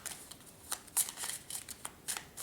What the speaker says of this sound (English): I just like shuffling.